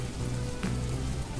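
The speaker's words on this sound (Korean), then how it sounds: "비가 오고 있어요 여러분." Steady rain falls in the Roblox video game, a dense even patter on surfaces that holds for a brief moment.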